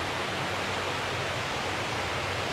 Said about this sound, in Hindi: पानी का जो शोर आ रहा है